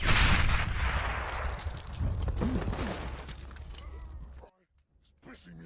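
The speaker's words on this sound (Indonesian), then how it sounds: "Seketika bom itu pun meledak." A loud bomb explosion with a sharp burst and rumbling, crackling debris that slowly dies away, then near silence and a brief faint sound.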